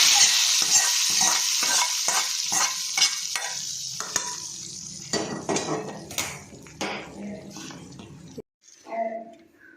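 Hot oil sizzles sharply as a tempering is poured into a pot of sambar, followed by stirring, utensil clatter and a steady background crackle.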